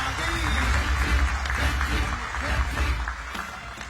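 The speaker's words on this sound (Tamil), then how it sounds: "ஒரு அரங்கம் நிறைந்த கைத்தட்டல கொடுத்துடலாம்" A packed hall audience claps for a student called to the stage, a dense, steady wash of applause mixed with crowd murmur that holds throughout.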